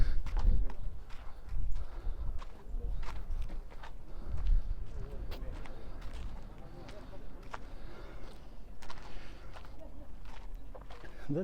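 Horse hooves clip-clop along in the town of Wadi Musa near Petra, Jordan, as a steady run of sharp, close hoof strikes over low outdoor street ambience.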